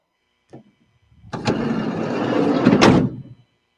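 A van's sliding door rolls open along its track with a steady grinding rumble and ends in a loud slam, heard close and on its own after a brief knock at the start.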